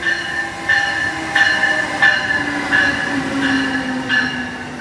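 An Amtrak train rolls into a station with steady rumbling and a recurring rhythmic click of wheels over track joints, metallic squeal tones riding above, fairly close.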